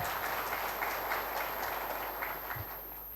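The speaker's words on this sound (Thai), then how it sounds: "ขอเสียงปรบมือให้ท่านด้วยครับ" An audience at an official Thai police opening ceremony claps for an introduced senior officer, a muffled, distant patter of many hands that stays fairly even and then fades slightly.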